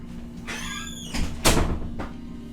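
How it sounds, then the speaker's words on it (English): A door closes in a Phoenix Wright: Trials and Tribulations game scene, giving a firm thud midway through. It comes after a rising whoosh, with a fainter second knock following, all over a low steady hum. "close the door."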